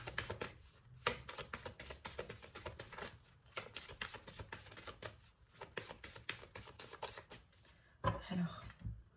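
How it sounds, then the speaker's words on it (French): Tarot cards being shuffled and cut by hand, a busy run of crisp riffling and flicking strokes with brief pauses, close and fairly quiet, ending in a couple of sharper taps. "On va faire également une petite coupe."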